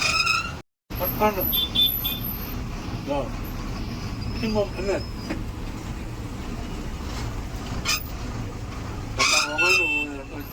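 A loaded-then-emptied truck pulls away from a busy wholesale market near Jaipur, engine rumbling amid dense traffic noise, with several horn toots from nearby vehicles scattered throughout.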